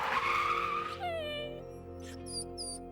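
Post truck tires squealing in a skid, a dramatic sound effect: a loud rising screech that drops into a sustained pitched whine, then short sharp chirping tones, with no voice.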